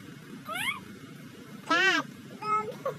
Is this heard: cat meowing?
yes